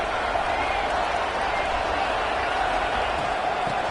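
Fired-up home crowd at an Auburn versus NC State college football playoff game, a dense continuous roar of cheering voices with faint claps, steady and distant.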